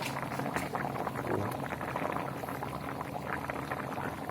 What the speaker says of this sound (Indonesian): Terus mendidih.